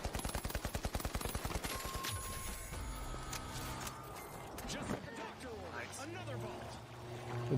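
Double turret gunfire in the video game The Finals opens with a fast, loud, rapid-fire stream of shots for about two seconds, then gives way to mixed game noise while voices talk over it.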